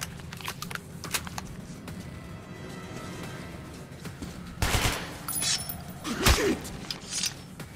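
Scattered gunshots in the first-person shooter Metro 2033: a few sharp cracks early on, then two louder, heavier bursts near the end, over a low rumbling game ambience.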